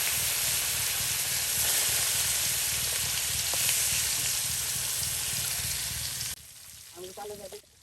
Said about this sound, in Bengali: কত মাছ একসাথে ভেজে নেওয়া হচ্ছে